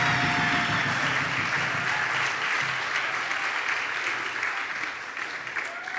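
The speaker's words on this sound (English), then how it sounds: "So we have to give her another round of applause," Audience applause for a poet at a live poetry and music event, a dense sustained wash of many hands clapping that tapers slightly toward the end, with no talk over it.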